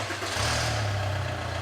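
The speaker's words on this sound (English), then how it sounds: "Start the engine" A Volkswagen turbo engine with the intake air boot removed from the EGR valve end of the manifold runs at a steady, close idle, its low rumble and hiss continuous throughout.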